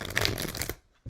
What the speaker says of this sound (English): I already shuffled quite a bit in between each sign